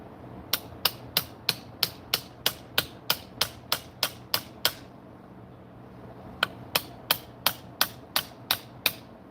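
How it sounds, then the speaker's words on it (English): A hammer strikes hardwood in quick, evenly spaced blows, about a dozen sharp knocks, a short pause, then another run of about ten, all loud and close with no talking. "that's a good like mallet, but this is hardwood. I need a hammer."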